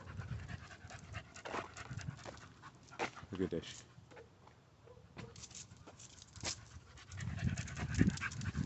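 A dog pants in quick, soft breaths during an outdoor walk among trees, bushes and grass. Someone talks throughout, and faint footsteps patter underneath.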